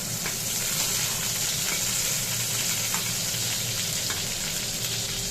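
Eggplant frying in oil in a pan, a steady dense sizzle and crackle with occasional soft pops, close and continuous, no voices.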